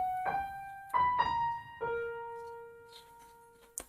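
A keyboard plays part of a theme from Harry Potter: a few sustained single notes in a slow melodic line, soft and close, with a faint noise near the end.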